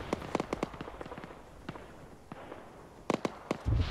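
An artillery barrage strikes in the military game Arma 3, a scatter of sharp, distant explosions and crackling pops that come irregularly and cluster together again near the end.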